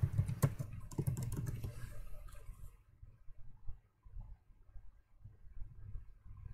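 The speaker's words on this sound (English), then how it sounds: "Are you typing as well?" Rapid keyboard typing clatters for about two and a half seconds, then gives way to low muffled thumps and background rumble.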